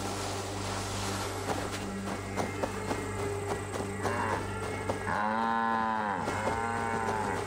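Two long, low cow moos in Assassin's Creed Valhalla sound one after another over a steady droning background hum, fairly close and clear.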